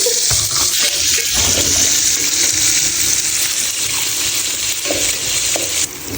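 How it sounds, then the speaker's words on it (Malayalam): Fish fries in a pan with a steady, loud sizzle and crackle of hot oil, joined by some stirring or scraping toward the end. "അപ്പോൾ ഗൈസ് മീൻ വറുത്ത് കഴിഞ്ഞു."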